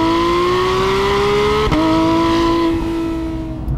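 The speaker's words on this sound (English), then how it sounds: "People mourn the loss of the Metzger engine from the older generations with this direct injection unit, but just listen to it." A Porsche 911 GT3 with a direct-injection flat-six screams close and loud as it revs high, a sharp gear change briefly cutting in before the rising wail resumes.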